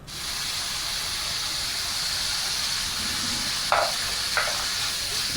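Vegetables for Hakka noodles stir-fried on a high flame, giving a steady, loud sizzle and hiss throughout with a couple of brief sharper scraping stir sounds near the end.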